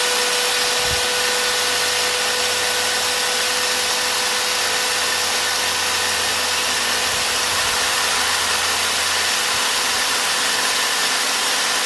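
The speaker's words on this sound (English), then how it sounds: "I'll turn on this angle grinder." An angle grinder powered by an ALLPOWERS R1500 solar power station runs continuously at full speed, producing a loud, steady, hissing whir with a constant tone and no speech.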